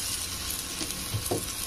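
Onion frying in a pan with ginger-garlic paste gives off a steady, close sizzle with a few soft stirring scrapes near the end.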